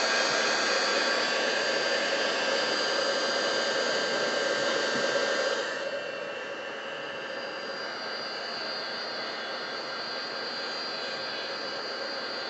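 A handheld heat gun blowing hot air to dry a painted craft background, a loud steady whooshing roar held close, dipping slightly in level partway through as the tool shifts, with no talk.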